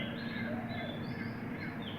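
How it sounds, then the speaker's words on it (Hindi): Birds chirp and call outdoors in a village setting, high whistling notes woven through steady background noise and faint voices, fairly close and continuous. "और अभी देखो चिड़ियाओं की आवाज़ आ रही है।"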